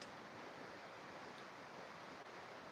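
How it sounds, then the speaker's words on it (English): Steady broadband rush of flowing river water, continuous and even throughout with no distinct splashes, close and moderately quiet. "Bring your awareness to the sound of the river."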